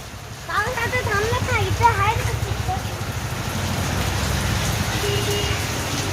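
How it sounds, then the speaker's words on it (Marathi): A heavy, constant downpour roars close by, with a person speaking briefly over the rain before it continues alone. "पाऊस येतोय जोरात भिजायला नको म्हणून थांबलोय"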